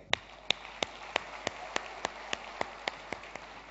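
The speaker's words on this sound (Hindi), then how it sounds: "एक बार जोरदार ताली आपके लिए" An audience at an evening gathering claps in a slow, even rhythm, about a dozen sharp claps spaced evenly apart, fairly faint against a quiet room.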